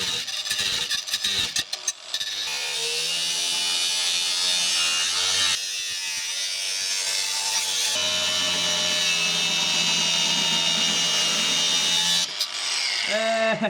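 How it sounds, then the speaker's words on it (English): An angle grinder cuts a notch near the transmission cross member of a Volvo 240 wagon with a loud, continuous harsh grinding that runs almost the whole time. Its pitch and load shift partway through, with brief handling noises at the start. "use an angle grinder and notch it out"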